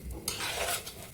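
Polao rice fries in ghee in a pan while being stirred, with close scraping strokes over a bright, continuous sizzle.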